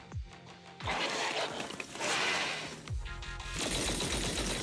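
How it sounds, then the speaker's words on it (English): Video game gunfire crackles in a fierce hail of bullets: rough bursts of rapid shots come in several waves with brief gaps between them, fairly faint overall. "A fierce hail of bullets hits the helpless enemies who fail to find cover."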